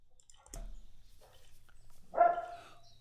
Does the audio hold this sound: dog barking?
yes